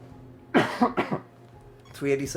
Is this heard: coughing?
yes